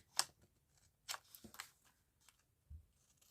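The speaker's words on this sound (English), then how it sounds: "Oh, my scissors are sticky. I need to give them a clean." Sticky scissors cut through paper in a few separate crisp snips and slicing strokes, close and fairly quiet with gaps of silence between.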